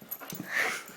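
A dog whimpers and whines while playing with a toy bear, a brief high-pitched nasal whine heard up close.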